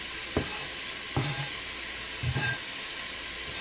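Chopped onion sizzling and hissing in a hot pan for sausage and cabbage soup, with three short scraping stirs as it is pushed to one side; steady frying hiss, no talk.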